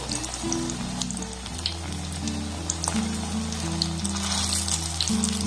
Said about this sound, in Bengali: গ্যাসের ফ্লেমটাকে একদম লো টু মিডিয়াম রেখে এটাকে উল্টে পাল্টে আমি একটু লাল লাল করে ভেজে নেব